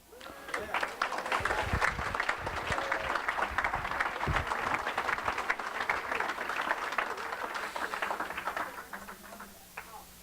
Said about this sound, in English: give them some applause for that